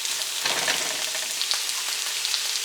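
NY strip steak sizzles loudly in hot oil, a dense, steady crackle and spitting close to the microphone with no voices.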